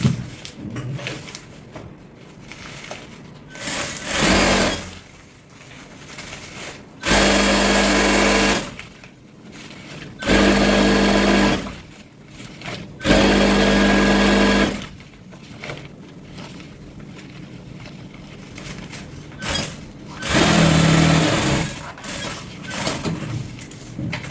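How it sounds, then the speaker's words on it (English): A sewing machine stitches around the waistband of Ankara print palazzo pants, running in several loud, steady bursts of a few seconds each, with quieter pauses of handling and fabric movement between them. "for proper fixing, I'm going to stitch around it"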